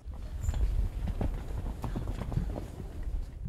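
Feral Yılkı horses walk on the slopes of Spil Mountain National Park, their hooves making a steady, uneven clip-clop on the ground under a low outdoor rumble of wind.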